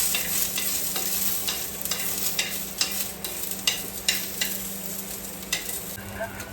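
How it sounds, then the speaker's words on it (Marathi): Onion being stirred in oil on low gas heat, a soft steady sizzle broken by repeated scraping strokes of the spoon against the pan, close and alone. "बारीक गॅसवर कांदा टाकला आणि आता टाकते तेल"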